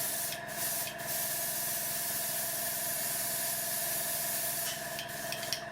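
An airbrush being cleaned by blasting thinner through it gives a steady, loud spray hiss that runs continuously, with a few brief dips and clicks near the start and end.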